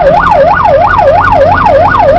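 An ambulance siren responding to a motorcycle accident in Pasig City wails loud and close in a fast, regular up-and-down yelp, steady throughout, over low traffic rumble.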